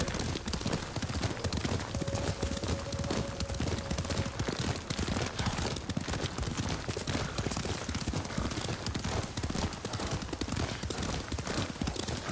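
Horse hooves gallop continuously in the samurai video game Ghost of Tsushima, a rapid, steady drumming of hoofbeats that carries on without pause at an even, moderate level.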